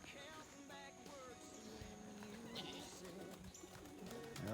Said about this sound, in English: ooh, some of them birds sound heavy.